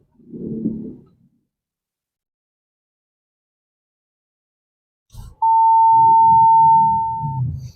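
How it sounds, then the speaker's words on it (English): A Ford Territory Sport 2025's proximity sensor gives one long, steady electronic tone lasting about two seconds, loud and close, after a brief murmur and a stretch of silence. "what you're hearing right now is the proximity sensor"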